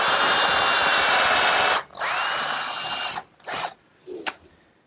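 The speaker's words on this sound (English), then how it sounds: "The same cleats get screwed into the rabbets that I made earlier." A power drill drives screws into wooden cleats set in rabbets for a workshop hutch, whirring loud and close in a long run, then stopping for two shorter bursts.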